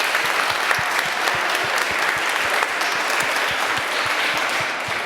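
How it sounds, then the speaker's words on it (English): A room of attendees at an early-college education event gives a round of applause: a steady, full roar of many hands clapping, with faint regular thumps running beneath it throughout. "I would like you to join me in thanking them and giving them a round of applause"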